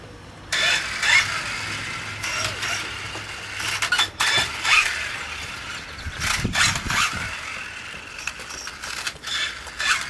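An electric motor in an RC car running on a 2S lipo battery gives bursts of whirring and ratcheting mechanical noise, rising and falling in loudness over about ten seconds. No voices accompany it.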